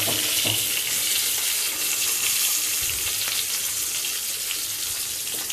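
Spices sizzling in hot oil in a home kitchen, a loud continuous frying hiss with occasional soft stirring clinks and no speech.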